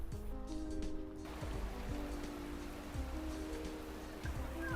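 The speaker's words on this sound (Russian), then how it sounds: "под летним дождем гулять всегда приятно" Steady summer rain pattering on a surface with a constant hiss, a low rumble and faint tonal hum in the background, no talking.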